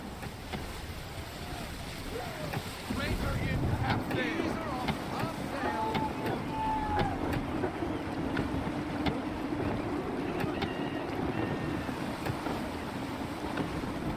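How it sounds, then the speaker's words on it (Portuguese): A sailing ship at sea in Assassin's Creed III, gusty wind roaring steadily across the microphone with water washing against the hull, a constant broad rush that swells after the first few seconds, with faint talk underneath. "Gusty winds can be difficult to manage."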